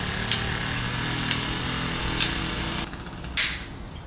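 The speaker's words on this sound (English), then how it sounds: "Now that it's torqued, I just have to safety wire it." Four sharp, bright metallic clicks, evenly spaced and close, from safety wire being worked through the rear axle nut of a BMW S1000RR motorcycle in a quiet workshop.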